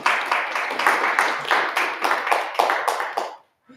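A conference audience claps in bursts of quick, dense hand claps lasting a few seconds before cutting off abruptly, heard close and loud.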